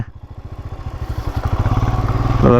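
A motorcycle engine starts up and revs nearby outdoors in a forest area, a rapid steady chugging pulse that grows louder and quickens toward the end.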